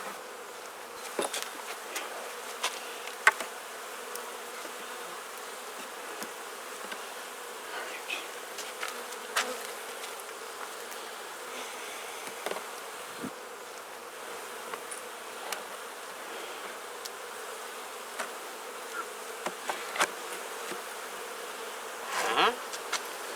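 Honeybees drone steadily around an open Langstroth hive during an inspection, a dense continuous buzz with occasional clicks and knocks of frames being handled close by.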